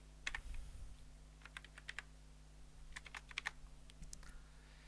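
Keys clack on a computer keyboard in quiet bursts of quick taps with short pauses between, close by over a faint steady hum.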